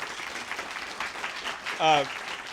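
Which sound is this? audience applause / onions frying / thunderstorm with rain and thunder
audience applause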